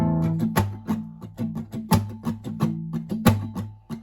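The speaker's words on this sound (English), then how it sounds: "I'm adding another percussive slap to it." An acoustic guitar strummed slowly in a steady rhythm, each chord punctuated by a sharp percussive slap on the body, repeating about a dozen times up close with no talking.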